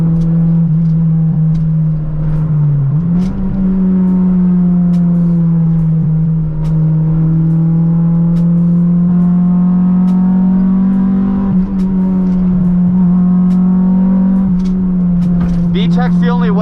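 A Honda Integra engine holds a loud, sustained high-rev drone, pitch stepping up sharply as the VTEC engages and then staying high, recorded from inside the car.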